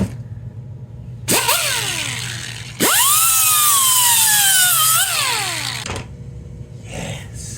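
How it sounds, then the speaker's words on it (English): An angle grinder whines in two long bursts, its pitch dropping as it bites into a brazed aluminum part on a Jacobsen Sno Burst snowblower, loud and close, with a short spin-down between them. "Let me grind on that and polish it."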